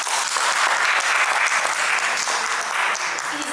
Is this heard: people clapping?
yes